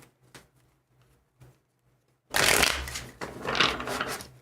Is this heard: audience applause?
no